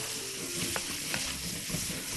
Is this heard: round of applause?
no